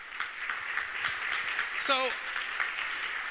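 Audience applause at a legislative leaders panel at a symposium, a steady, moderately loud patter filling the room while someone briefly speaks over it.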